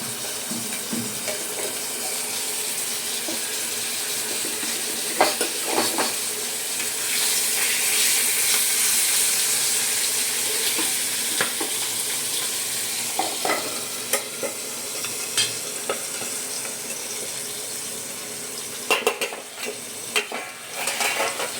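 Steady frying sizzle in a pan with occasional stirring scrapes and clicks, continuous and fairly close, with no voices.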